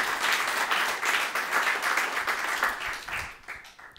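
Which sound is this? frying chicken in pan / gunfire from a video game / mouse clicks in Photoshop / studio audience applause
studio audience applause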